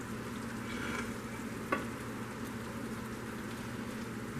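Bell peppers frying in a pan coated with rib-eye steak juices, giving a steady, soft sizzle with one brief clink of a utensil partway through.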